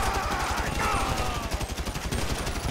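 Sustained rapid gunfire in modded GTA 5 rattles on continuously, loud and dense, with a faint tone in the background.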